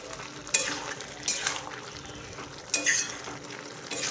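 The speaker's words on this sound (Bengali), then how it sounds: "মাছগুলো দিয়ে ভালো করে মিশিয়ে নেব।" Small fish being stirred into a simmering curry in a pan for kucho macher chochchori, a Bengali dish; a steady sizzle runs under three distinct scraping strokes of the spatula, close up, with no talking.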